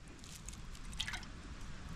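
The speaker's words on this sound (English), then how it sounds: "I'm gonna go down to the lake and filter some water for dinner." Water from a lake drips through an MSR water filter outdoors, making soft, irregular droplet sounds over a steady low background.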